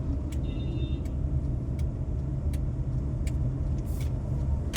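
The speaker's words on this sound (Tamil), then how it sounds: "பாருங்க, ஒரு லாரிக்கார் போகிறாரு." Lorry rolling past on a rural road, a steady low engine drone heard from inside a moving vehicle, with a few faint clicks and hisses over the hum.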